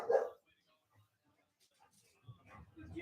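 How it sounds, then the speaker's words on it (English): A single sharp bark from an agitated dog sounds at the start, fairly close, followed by near silence and some faint indistinct talking later. "That dog is pissed off about something."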